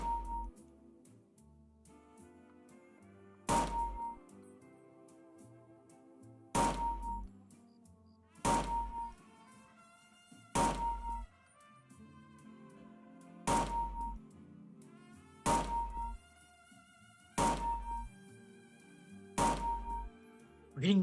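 Single shots from a scoped Colt Rangemaster service rifle in Fallout: New Vegas, about nine sharp reports spaced a couple of seconds apart, each followed by a metallic bolt-cycling clink, while a voice talks quietly between them.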